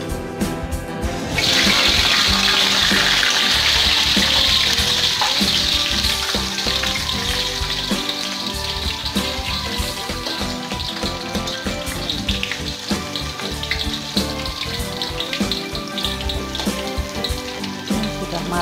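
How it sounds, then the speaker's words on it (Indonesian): Chilies, shallots, garlic and candlenuts fry in hot oil, a loud, steady sizzle that bursts in at the start and crackles continuously throughout, with occasional stirring and clinks of a utensil. "Sekarang kita goreng cabai, bawang merah, bawang putih, dan kemiri, kecuali lengkuas dan terasi."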